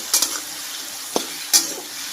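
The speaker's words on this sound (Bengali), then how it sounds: "ওর সাথে হাফ চামচের মতো লবণ হলুদ গুঁড়ি দিয়ে দেবো। নিয়ে হলুদ গুঁড়ি দিয়ে ভালো করে নাড়িয়ে" Chicken ghugni being stirred with salt and turmeric powder in a pan, giving a few short scraping clinks of a spoon over a low steady sizzle, close and moderately loud, with no voices.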